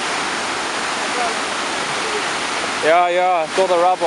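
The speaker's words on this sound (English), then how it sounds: "it's not much of a spruit anymore, it's quite a raging torrent." The Eastleigh Spruit, flooded into a raging torrent by heavy March rains at the Central Avenue Bridge, gives a loud, steady rushing roar of water throughout, with someone talking briefly over it near the end.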